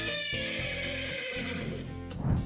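A horse on a horse farm gives a single drawn-out whinny that carries through the clip and ends in a louder snort-like burst, close by and alone with no talk.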